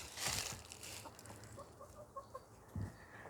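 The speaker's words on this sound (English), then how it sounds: "These are our chicks, our chickens." Backyard chickens of the Americana breed cluck softly in a few short, repeated calls, moderately close, over light outdoor background noise.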